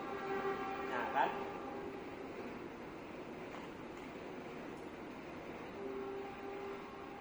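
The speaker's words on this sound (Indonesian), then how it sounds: "Nah itu kereta ya." A distant train rumbles past with a faint horn near the start, the low steady roar fading and swelling slightly under quiet background.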